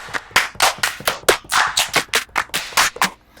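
80s-style clap samples triggered one after another on an MPC, a dozen or so sharp, snappy hits in quick irregular succession, each with a short decay, dry and upfront with no talking.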